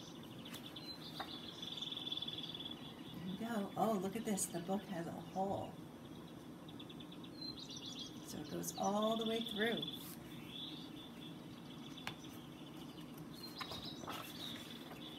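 Birds chirp and tweet softly through an outdoor-like background, with bright repeated calls scattered across the clip while someone talks over them at close range.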